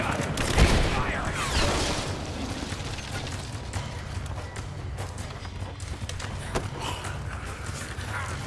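Gunfire in the video game Rise of the Tomb Raider: irregular bursts of fairly faint, distant shots crackle over a constant ambient rumble, with a sharper burst near the start and no talking.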